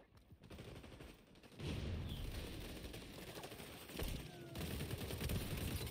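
Gunshots in the xDefiant video game sound as a continuous crackling barrage of rapid fire, loud and steady, with a few brief pauses and a sudden swell after the first couple of seconds.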